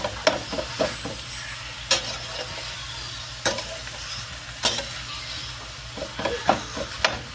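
Onions and meat frying and being stirred in a pan, a steady broadband sizzle broken by repeated sharp scrapes and clicks of the utensil against the pan, close and moderately loud, with no talking.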